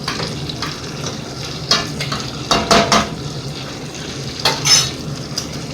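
Meat with green peppers and garlic cooking in a pot over low heat, with a steady soft sizzle and a few nearby clinks of a utensil against the pan, and no talking.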